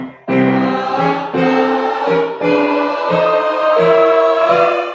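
Tenor, alto and soprano choir parts are played together on a keyboard as a sequence of about five sustained chords, each struck anew with a clear attack, loud and close, with no voices.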